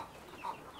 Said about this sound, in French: ici c'est les poulets de chair